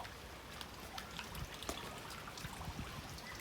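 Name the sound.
rain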